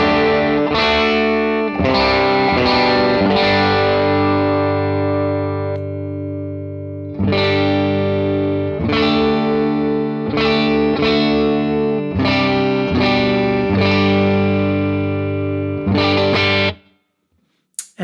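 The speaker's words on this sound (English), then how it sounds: "So here's what it sounds like right now. Bridge pickup." Electric guitar on the bridge pickup through distortion and chorus effects plays sustained chords and riffs, loud and close, with gaps between phrases and a sudden cutoff near the end.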